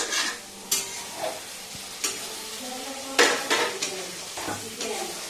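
Masala for desi chicken kassa sizzles in a pan while a utensil scrapes and clinks against the metal in several irregular stirring strokes, close and moderately loud.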